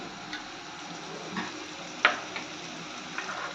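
Two spoonfuls of ginger-garlic paste hit hot oil with a fried bay leaf while chicken curry is being cooked, giving a close, steady sizzle broken by a few sharp stirring clicks, with no talking.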